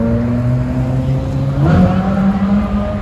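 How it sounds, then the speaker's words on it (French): A Ferrari 458 Speciale supercar at a Paris supercar gathering holds a loud, droning engine note nearby, then briefly climbs in pitch as it revs before settling again. "Petite Ferrari sympatoche, 458 Speciale."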